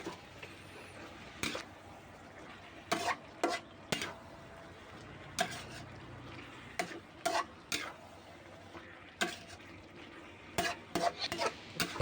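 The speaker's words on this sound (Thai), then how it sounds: "ผัดคุกเขาส่วนผสมทุกอย่างให้เข้ากันเลยนะครับ" Spicy pork belly is stir-fried in a pan, with a spatula scraping and clanking against the metal in irregular sharp bursts over a faint, steady sizzle; fairly quiet and close, with no talking.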